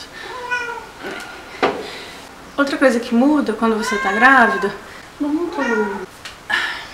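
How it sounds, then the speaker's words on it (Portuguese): Someone talks steadily while a cat meows in the background, its cries brief and intermittent between and under her words. "é esse gato aqui miando"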